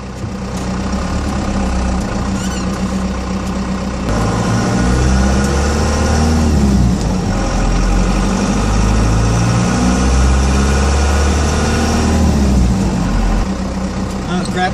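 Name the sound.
car engine while driving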